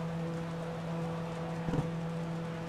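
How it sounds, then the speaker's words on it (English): Steady rain hiss in the Project Cars racing game on a wet Imola Circuit pit lane, a constant wash of drops with a low steady engine hum beneath and a brief thump near the end. "it's raining"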